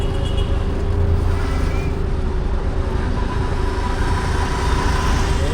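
Car driving on a busy road at night, a loud steady engine rumble and road roar from inside the vehicle with constant traffic noise around it.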